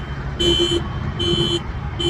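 Close and loud, a buzzer-like alarm blares in repeating bursts of about a third of a second, three tones with short gaps, over a steady low hum.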